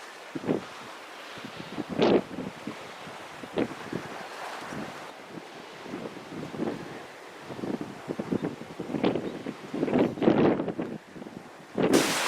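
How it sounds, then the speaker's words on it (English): Gusty mountain wind outdoors roars across an open microphone, rising and falling in strong buffeting surges with no voices. "Super windy right now"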